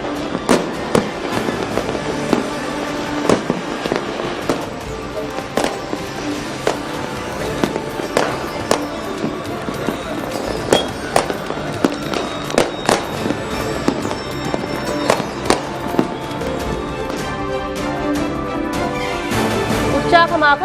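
Diwali fireworks burst across the night sky in a dense, continuous barrage, sharp cracks and booms overlapping with firecracker pops throughout, loud and fairly close with some crowd noise beneath.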